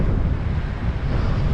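Strong wind buffeting the microphone at Gordale Scar, a loud, continuous low rumble with gusty fluctuations and no voices.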